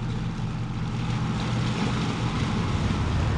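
Ferry boat idling in gear at the slip on the Bellevue side, a steady low engine rumble and drone that holds evenly throughout with no voices.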